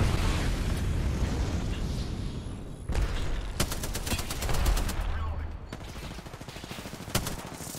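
Friendly airstrike in Apex Legends: a rolling barrage of explosions and rapid bursts of gunfire crackle over several seconds, loud and dense, with heavy low rumble beneath.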